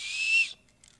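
A small plastic survival whistle with a compass on the back gives one short, shrill blast of about half a second, close and loud, then stops into near silence.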